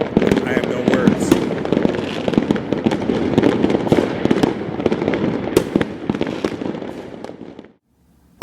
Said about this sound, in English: they go crazy with fireworks on New Year's Eve